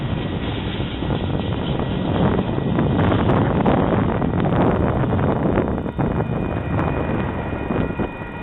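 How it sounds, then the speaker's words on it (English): A Union Pacific intermodal freight train descends Beaumont Hill with a constant loud, broad rumble and heavy wind buffeting the microphone, steady throughout and with no voices. "This intermodal is now beginning the descent into Indio and will continue on to the crew change point at Yuma, Arizona."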